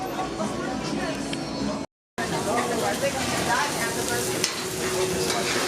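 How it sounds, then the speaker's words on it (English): Stir fry cooking at a cruise ship buffet station on the Holland America Koningsdam, with steady sizzling and stirring clatter amid busy crowd chatter and people talking nearby, broken by a brief gap. "Stir fry right there."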